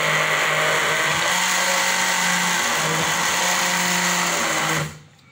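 A kitchen blender runs continuously on a whitening base cream mixture, a loud, steady motor whine with a constant hum, then cuts off abruptly near the end.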